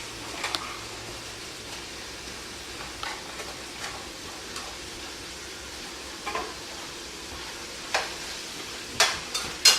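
Mushrooms sizzle in a pan with a soft, steady hiss, faint and close, while a utensil scrapes and taps now and then as they get stirred.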